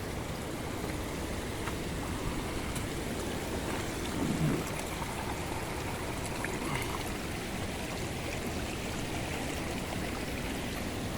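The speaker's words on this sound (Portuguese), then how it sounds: "E aí tá as minas de água." A spring-fed stream flows along a forest trail toward the Véu de Noiva waterfall in Brazil, giving a continuous, even rush of water with a slight swell midway and no talking.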